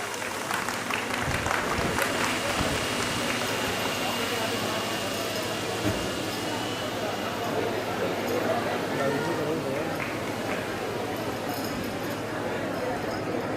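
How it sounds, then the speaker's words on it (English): Audience applause at a Resonance 2025 prize distribution and closing ceremony: a steady, dense wash of clapping runs through the whole stretch, with talk underneath. "We need you to keep clapping, please."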